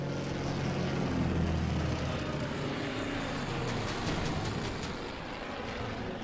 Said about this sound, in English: we'll do one last bombing run here.